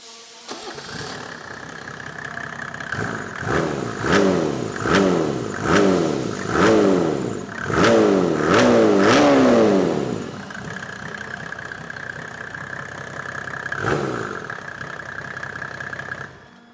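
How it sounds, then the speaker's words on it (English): A Mercedes OM606 diesel engine on a test stand cranks and fires, rising through a series of rhythmic revs before settling to a steady idle, loud and close with no voices. "I'll put a clip of that in just to show you them being tested"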